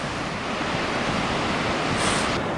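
Huge ocean waves at a beach, a loud continuous roar of surf with wind noise and no voices.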